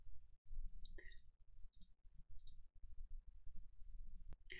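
A few sparse, sharp mouse clicks while the XAMPP installer runs on a computer, spaced seconds apart over a quiet background with low hum and faint handling noise.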